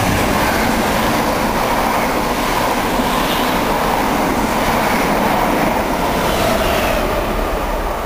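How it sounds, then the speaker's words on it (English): A northbound Mark 3 passenger set passes through Needham Market station, a loud, steady roar of wheels and carriages rumbling close by for the whole stretch, with no voices. "here comes the northbound Mark 3 set at the same time"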